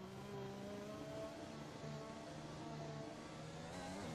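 An F1 car in the F1 2021 racing game accelerates out of the pit lane, its engine a steady, high-pitched whine that climbs through the gears without a break.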